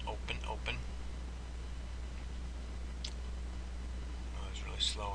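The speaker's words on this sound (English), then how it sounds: "I'm clicking back and forth too many times." Computer mouse clicks while setting up a blog dashboard, a few sharp faint clicks spaced across a few seconds over a steady low hum, with soft breathy sounds.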